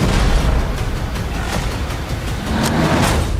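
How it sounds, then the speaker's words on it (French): A dense, roaring rumble of an explosion fills the whole clip, loud and sustained with crackling bursts and no voices. "Je vois une explosion avec Henry protégeant Sam de l'explosion."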